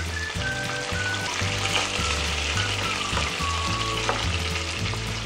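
Rohu fish pieces fry lightly in hot oil, turned to cook on both sides. A steady, close sizzle and crackle runs throughout over soft background music.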